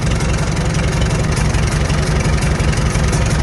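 A Farmall H tractor engine idles during carburetor air idle adjustment, a loud, close, steady low rumble with rapid even firing pulses and no voices.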